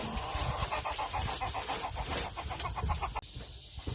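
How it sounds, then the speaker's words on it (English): Hens clucking steadily together in a coop, a busy overlapping chorus of short rhythmic clucks, fairly close and continuous. "the chickens are happy. They just keep laying."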